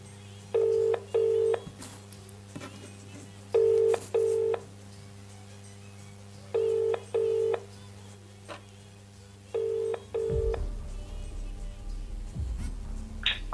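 An outgoing phone call: paired electronic tone beeps repeat at even intervals four times, then give way to rustling handling noise near the end.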